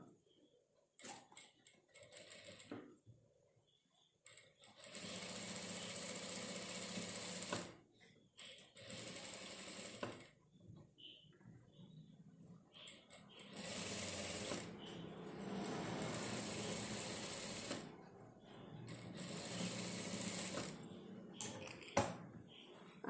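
A sewing machine stitches a cut churidar piece in several runs of fast, steady mechanical whirring and clicking, separated by brief pauses with small clicks and handling sounds, close and fairly quiet.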